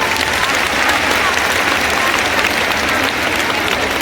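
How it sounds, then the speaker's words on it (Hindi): Dense, loud applause from a large audience at a government women's empowerment event in Delhi, steady and sustained throughout with a faint murmur of voices beneath. "ताली तो बजनी चाहिए भाई।"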